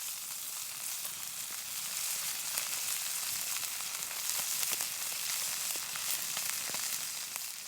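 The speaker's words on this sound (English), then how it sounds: "We're gonna olive oil, season it up, a little garlic powder, garlic salt, salt and pepper, and pretty much just sear that." Mallard duck breast seasoned with garlic powder, garlic salt, salt and pepper searing in olive oil, a steady close sizzle with small popping crackles throughout, cooked over an open fire.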